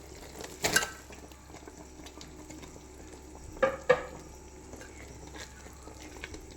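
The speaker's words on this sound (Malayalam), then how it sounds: "ഇനി നമുക്ക് ചക്ക ഇതിനകത്തേക്ക് ഇടാം." Jackfruit pieces are tipped into a pan of drying grated coconut and stirred for a kumbil appam filling, giving a couple of short scraping, clattering bursts over a low background hiss, with no talking.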